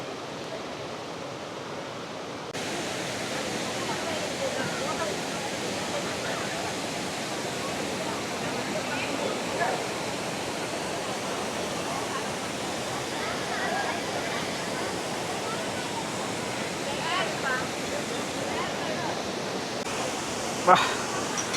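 Steady broadband rush of the Kandhanpara waterfall in Wayanad, Kerala, a continuous close roar lasting throughout, with a few faint clicks and bumps on top.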